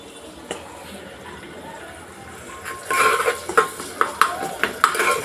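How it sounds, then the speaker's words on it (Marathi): Masala roasts in an iron kadhai, quiet at first, then a spatula scrapes and stirs in a rhythmic run of close metallic clanks and scrapes over a low sizzle. "ह्या कढईमध्ये मी सगळा मसाला भाजून घेणार आहे"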